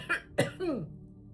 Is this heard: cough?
yes